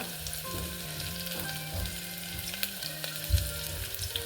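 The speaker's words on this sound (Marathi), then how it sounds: "त्यानंतर मी टाकते कढीपत्ता" Curry leaves crackle and sizzle in hot oil in a pan, a steady, close frying hiss with small pops throughout and no talking.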